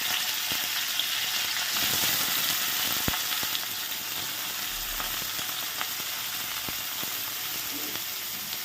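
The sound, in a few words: beans and carrots frying in oil in a wok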